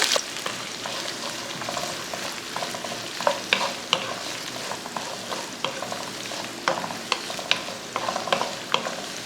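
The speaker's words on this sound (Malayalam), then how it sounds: "അതിലേക്ക് നമ്മൾ അരിഞ്ഞെടുത്ത സവാള ഇടുന്നതാണ്" Chopped onion frying in oil with cumin seeds and cashews for potato masala, a busy continuous sizzle broken by frequent stirring scrapes and clinks, close up with no voices.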